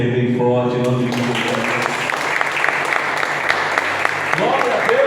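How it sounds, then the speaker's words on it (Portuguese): Church congregation applauding loudly during a worship service held in a garage, a steady dense clapping that fills the clip, with singing or talk fading out at the start. "eu queria que você aplaudisse aí bem forte, em nome de Jesus"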